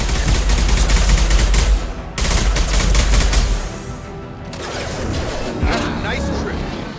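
Rifle fire in the video game Mass Effect 2 comes as loud, dense bursts of gunshots in the first half, then trails into lower, rumbling game noise, with a voice talking throughout.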